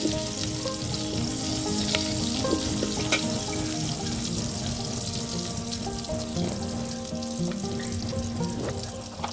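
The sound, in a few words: chopped onion frying in oil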